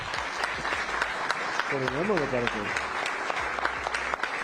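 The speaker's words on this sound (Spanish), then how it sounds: "Un aplauso" Applause from a crowd, steady clapping throughout, with someone speaking over it and a brief melodic tone in the middle.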